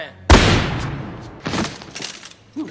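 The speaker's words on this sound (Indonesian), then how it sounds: "Di parkiran basement, Bert ditembak sama Rex." Gunshots ring out in a basement parking garage during a film scene, a sharp loud blast followed by a second burst and a few smaller bangs, with a brief voice near the end.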